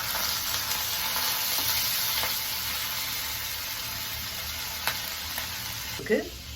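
Mustard seeds, fenugreek and curry leaves fry in coconut oil with a steady, close hiss and sizzle, a few faint pops, and a brief clatter of stirring near the end.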